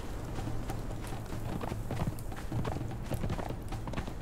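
Horse hooves gallop in the Conan Exiles video game, a rapid continuous clip-clop rhythm, fairly close and steady, with no talking over it.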